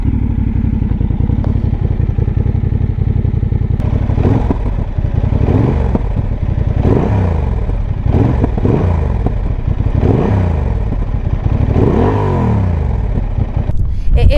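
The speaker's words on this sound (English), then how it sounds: "I'm just going to do a quick sound test because this has got an SC Project exhaust fitted" A Honda Hornet CB750 motorcycle with an SC Project aftermarket exhaust idles loudly, then revs repeatedly in sharp bursts with a raspy, throaty exhaust note, close up.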